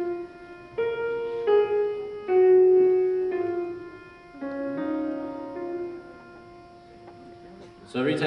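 A solo piano plays the lark melody from Balakirev's The Lark: several sustained notes and short phrases ring out in the mid register, then the sound swells near the end, with no voices.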